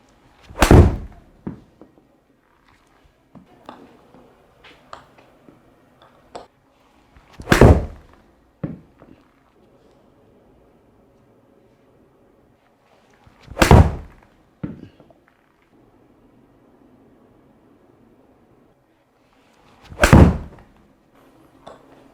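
Four sharp, solid impacts of golf irons (Titleist P790 2021 and 2019, P770, P7MC, all with Modus 105S shafts) striking a TP5X ball, spaced several seconds apart with quiet handling noise in between.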